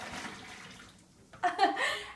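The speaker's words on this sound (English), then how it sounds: "We're going to go ahead and pour out the water" After a quiet moment, boiling water is poured out of a cooking pot in a short gushing splash at the end.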